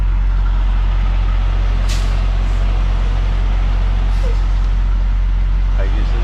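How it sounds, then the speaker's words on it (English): A truck pulling to a stop with its air brakes at a trucking stop, under constant loud engine and road rumble, with short sharp hissing bursts of released air. "that was the second truck that stopped"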